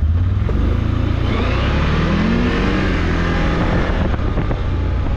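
A CFMOTO G3 1000 ATV engine drives forward, loud and close, a sustained throaty drone that rises in pitch as it accelerates, with wind buffeting the microphone.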